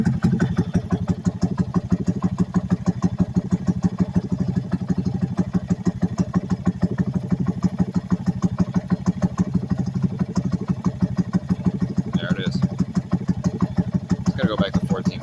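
A Honda Grom motorcycle engine runs steadily close by during fuel tuning, its rapid, even firing pulses forming a continuous buzzing drone with a slightly uneven edge.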